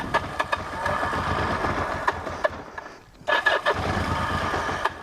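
A 1980 Yamaha XS850 Special motorcycle with a broken choke lever cranks and catches, its engine running in a rough, busy rumble that cuts out briefly and then picks back up, loud and close.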